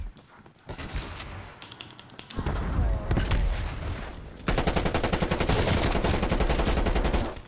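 Rapid bursts of automatic gunfire in a video game, with a quieter stretch of shots giving way to a loud, sustained machine-gun rattle in fast, even rhythm over the last few seconds.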